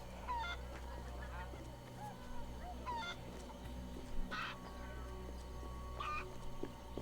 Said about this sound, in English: Why am I trying to catch a chicken?